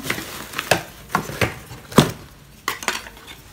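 Clattering as a wooden cooking spoon, a coconut-shell ladle, a glass pot lid and pieces of a Kangaroo cookware set are handled: a series of sharp, close knocks and clinks at irregular intervals, with no talk.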